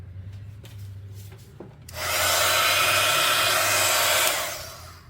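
Hair dryer blowing at close range to dry paint on an art tag, switching on after a few faint rubbing sounds and roaring steadily for about two seconds before winding down.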